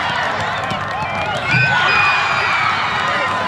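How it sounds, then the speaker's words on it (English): Spectators at a girls' high school soccer championship shout and jeer in a dissatisfied murmur, a mid-distance crowd noise swelling halfway through, with a few voices standing out. "Sterling crowd not happy about that one."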